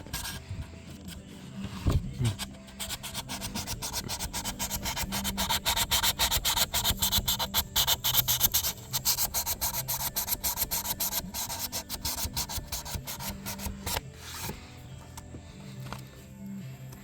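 Wood for a shelf is sanded by hand with sandpaper, close rapid back-and-forth rubbing strokes that build in intensity, with a brief knock near the start and softer strokes toward the end.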